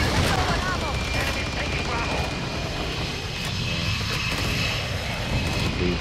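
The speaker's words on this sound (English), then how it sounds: "Brought the VTOL down again." A VTOL aircraft engine in the Call of Duty video game roars steadily as a dense, loud wash, with bursts of gunfire mixed in throughout.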